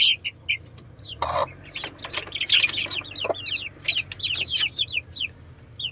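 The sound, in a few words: chickens clucking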